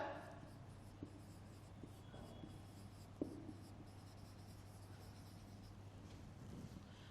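A pen scratches out notes during a Class X economics lecture, making faint, continuous scraping strokes with a few light taps against quiet room hum.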